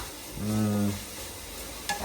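Garlic paste and tomato sautéing in hot oil in a pan for chicken curry, a steady close sizzle with stirring scrapes and a brief tonal hum partway through.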